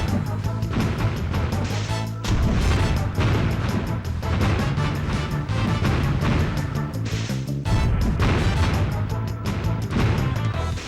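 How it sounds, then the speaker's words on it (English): In the Mystical Ninja video game, the Impact robot pounds the Gokai Galleon with loud, continuous crashes and booming blasts, repeated smashing hits layered over dense battle noise. "Come on, Impact, destroy the Gokai Galleon!"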